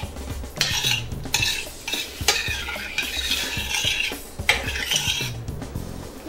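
Shrimp cook in a pan as a spoon stirs them, producing repeated bursts of scraping and clattering utensil noise over a light sizzle, fairly loud and close, with no speech.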